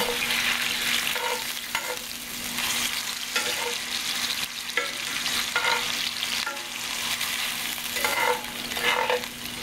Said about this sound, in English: we're just gonna fry up these potatoes.